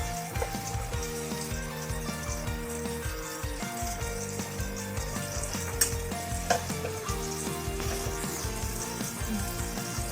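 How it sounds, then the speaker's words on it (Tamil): Chicken masala, chilli powder and a pinch of turmeric sauté in a hot pan for restaurant-style butter chicken, giving a continuous close sizzle and frying crackle with occasional stirring scrapes and no talking. "ஒரு சிட்டிகை மஞ்சள் தூள், இதெல்லாம் போட்டு வதக்கிக்கணும்."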